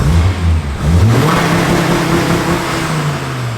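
A car drives along on its way to the shop, its engine humming and revving as it pulls, close and loud inside the cabin with no talking.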